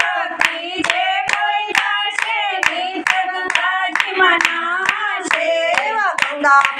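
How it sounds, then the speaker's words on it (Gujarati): Hands clap in steady rhythm along with a sung Shiv bhajan, sharp evenly spaced claps punctuating the melodic singing voices throughout. "ભોળા શંભુને યાદ કરીને તાળી પાડો તાલમાં"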